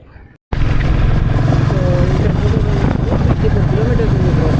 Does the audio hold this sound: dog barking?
no